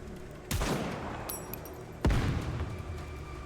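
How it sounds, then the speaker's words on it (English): Two heavy gunshot blasts from Graves' weapon in Goddess of Victory: NIKKE, about a second and a half apart, each a loud booming crack with a long sustained rumble behind it. "Flames spew from the barrel of Graves' weapon."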